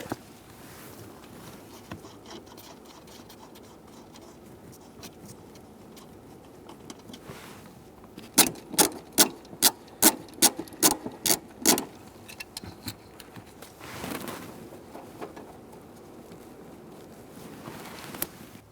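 A socket wrench with a 12mm socket removes bracket nuts on a 2004-2009 Mazda 3 2.3L, giving a run of about a dozen quick, close ratcheting clicks in a quiet space, followed by softer handling noises.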